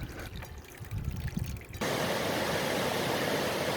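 Water splashes loudly through a rain-filled puddle on a bike path after a week of rain; the sound starts as a softer rush, then jumps to a steady, dense hiss of spray that continues alone until the end.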